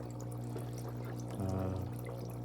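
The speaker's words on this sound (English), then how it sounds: "So I've turned the unit on with the bubbles and the vibration" A portable foot spa hums with a steady motor vibration and a bubbling, watery churn, the buzzing intensifying into a louder pulsing rattle for about a second before settling back.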